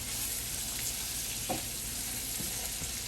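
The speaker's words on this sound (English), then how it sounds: "I'm just gonna saute the shrimp for about" Shrimp sauteing in a hot pan, a continuous close sizzle and crackle with a few soft stirring touches and no voices.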